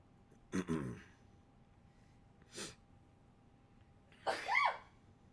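Three short bursts of sneezing and snorting, spaced apart against near silence, close and fairly quiet.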